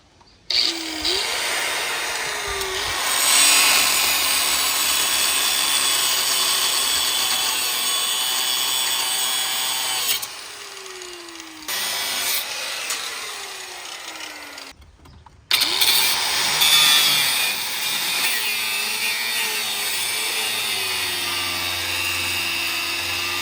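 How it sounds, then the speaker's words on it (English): A power tool saws through an old wooden board on a metal dock frame, loud and steady with whining bursts, cutting out briefly around the middle before resuming. "we're going to try to cut this board off"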